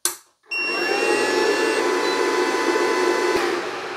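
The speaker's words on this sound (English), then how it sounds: "the air conditioner kicked on and the air conditioner is running with just its fan right now at about 76 watts" An air conditioner running only its fan starts up on power from an inverter fed by a 12V 100Ah LiFePO4 lithium battery. After a brief click and a pause, a loud, steady whirring hum sets in and holds with a faint electronic whine.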